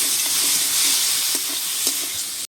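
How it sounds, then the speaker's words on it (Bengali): Prawns sizzle loudly and evenly in a hot pan while being stir-fried, with a few soft scraping knocks over the hiss, and the sound cuts off abruptly at the end. "চিংড়ি মাছটা দেখুন কষিয়ে নিচ্ছি"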